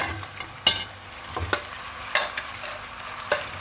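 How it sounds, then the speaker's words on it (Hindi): Mutton fries in a karahi with a soft, steady sizzle, punctuated by several sharp metallic clanks and scrapes as the meat is stirred, heard up close without speech. "अब मैं इसको फ्राई कर लेती हूँ।"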